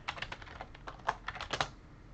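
Rapid typing on a computer keyboard while entering a search into a web browser: a quick, close run of light key clicks with a few louder taps, heard alone.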